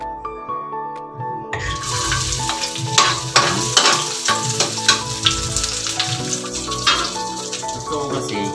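Garlic and onion hit hot oil in a pan, with the sizzle starting suddenly and loudly, then continuing steadily as a utensil clatters and stirs through it.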